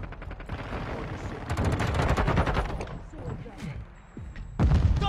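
Rapid automatic gunfire in a first-person shooter video game, with bursts of shots and thuds running under game voice callouts and a heavy impact near the end.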